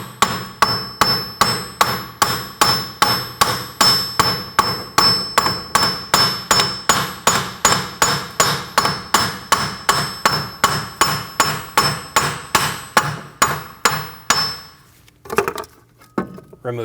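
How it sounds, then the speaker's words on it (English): A hammer taps a steering knuckle off the strut on a 2012-2022 Volkswagen Passat, giving a long run of steady, evenly spaced sharp metallic knocks, loud and close, that stops near the end. "You also may need to use a hammer to tap it off."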